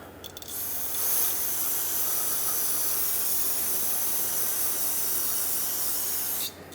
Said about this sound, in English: Clean this area off with brake parts cleaner so we can make sure that there are no leaks